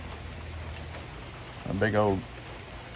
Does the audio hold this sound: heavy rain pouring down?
yes